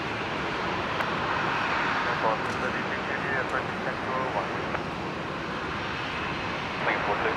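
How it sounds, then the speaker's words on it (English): Aircraft engines spool up at Brisbane International Airport, a steady broad roar heard from a distance that holds even throughout, with radio-style talk layered over it. "Engines, left-hand engine just started."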